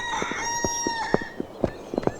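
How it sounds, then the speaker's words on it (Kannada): A mobile phone ringtone of a rooster crowing plays loudly and clearly, a drawn-out crow overlaid with clucking bursts across about two seconds, with no talk. "ಏನಯ್ಯ ಇದು ಕೋಳಿ ಶಬ್ದ? ಕೋಳಿ ಅಲ್ಲಪ್ಪ, ನನ್ನ ಮೊಬೈಲು."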